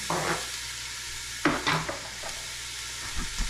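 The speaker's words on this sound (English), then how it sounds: "Let's brown this. It's just getting a browner. I'm gonna put the whole onion in." A whole onion fries in a hot pan, a steady crackling sizzle close by with occasional scraping stir sounds and utensil clinks breaking through.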